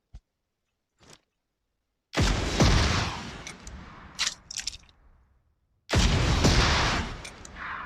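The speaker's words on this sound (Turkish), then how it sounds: "Bomba bomba da atayım bari ya" A grenade thrown in PUBG Mobile, a few faint clicks, then a loud booming blast with rumbling debris, scattered sharp cracks, and a second heavy explosion near the end.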